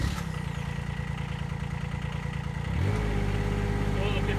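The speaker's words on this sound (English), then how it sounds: "today we're demonstrating the auger" A Wild-Cat WC-011 auger's small engine runs steadily with a throbbing idle, then its pitch and loudness step up as it revs higher near the end.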